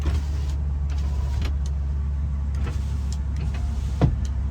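Electric power windows running inside a 2001 Ford Excursion Limited 4WD, a faint motor whir with a few light clicks over the steady low hum of the idling truck.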